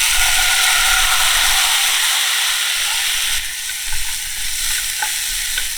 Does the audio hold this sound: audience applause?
no